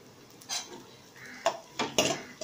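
Ingredients for mushroom soup sauté in a pan, punctuated by several clattering scrapes and knocks of a metal spoon stirring against the pan, close and intermittent, with a faint sizzle beneath.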